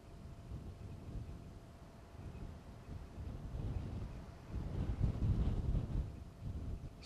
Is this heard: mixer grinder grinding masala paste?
no